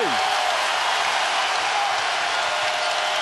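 A basketball arena crowd roars and applauds after a Boston play, a dense, loud, sustained wash of cheering and clapping with no pause.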